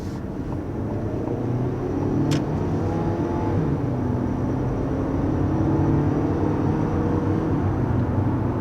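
A 2021 Ford Escape Titanium with a turbocharged engine accelerating, a steady low engine drone with road rumble heard from inside the cabin, slowly building in loudness, with no talk.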